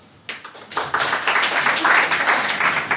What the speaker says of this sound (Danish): Prøv lige at klappe.